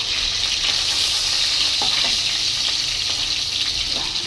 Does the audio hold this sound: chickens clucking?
no